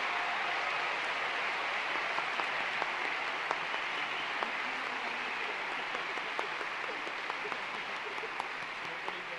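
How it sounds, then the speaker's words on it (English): Applause for the class of 2015 at Colerain High School's graduation ceremony, a broad, steady wash of clapping from a large crowd filling the hall without letup. "Please join me in a big round of applause for the class of 2015 summa cum laude."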